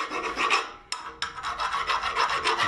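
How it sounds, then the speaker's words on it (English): Rasping strokes of a metal file deburring a brake disc skimming tool, a steady run of close, loud filing with a brief pause and restart near the middle. "So let me just get rid of some burrs here."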